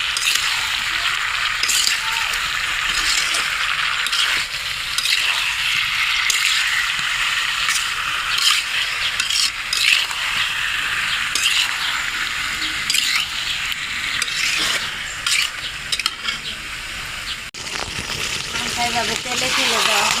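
Sugar is slowly stirred into green mango pickle in a pan, giving a steady sizzling hiss broken by scattered clinks and scrapes of the spoon over about twenty seconds, with no talking.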